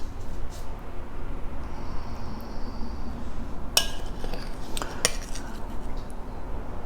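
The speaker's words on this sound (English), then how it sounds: "we're going to spoon our peach mixture with the marinade and everything" A metal spoon scrapes and clinks against a bowl while grilled peach mixture with its marinade is spooned over ice cream, a few sharp close clinks over a quiet background.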